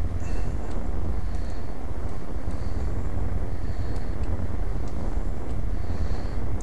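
Rocket engine running in the game Kerbal Space Program, a loud steady low roar with a rushing, wind-like texture that continues unbroken, with faint intermittent high tones flickering above it.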